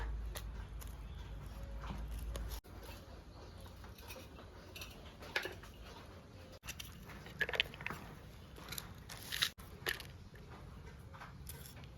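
Knife cutting garlic and green chilies on a kitchen board, a series of light irregular taps and chops close by with a low steady background hum, no talking.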